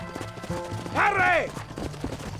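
Galloping horse hooves in the video game Red Dead Redemption, a rapid clip-clop rhythm running under a loud shouted voice that rises and falls in the middle, with other game sounds around it.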